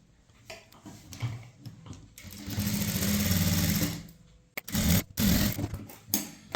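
Sewing machine stitching a blouse lining, running in bursts of steady rapid whirring and clatter, close and loud, with short pauses between runs and handling noise.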